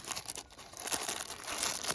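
Plastic bag packaging around a Skif Vulture folding knife crinkles and rustles during unboxing, a close, quiet, irregular crackling with no speech.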